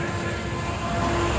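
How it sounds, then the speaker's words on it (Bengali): A train pulling out of Katwa Junction at night, a steady broadband rumble of rolling wheels and engine with a faint sustained tone, loud and continuous without a break. "কাটোয়া জংশনকে বিদায় জানিয়ে এগিয়ে চলেছে ট্রেন"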